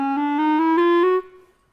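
A clarinet plays a chromatic scale, climbing one semitone at a time in a smooth, steady legato run that lasts under two seconds, then stops with a brief ring-off. It is close and clear, with no talking.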